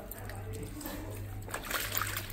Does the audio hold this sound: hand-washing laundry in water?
yes